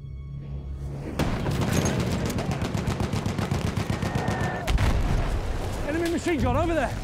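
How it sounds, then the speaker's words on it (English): Enemy machine gun fire in a war video game, a long rapid stream of loud shots rattling steadily for several seconds with a heavy boom near the end, while a voice talks over the noise. "Enemy machine gun over there."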